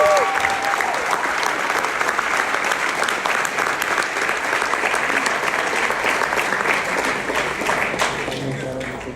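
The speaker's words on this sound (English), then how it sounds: "Let's give these guests a big round of applause." Sustained audience applause for guests at an evening event in Sunrise, Florida, a dense, loud wash of clapping holding steady for the whole stretch with faint crowd noise mixed in.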